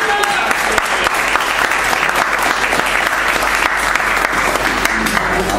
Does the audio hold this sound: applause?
yes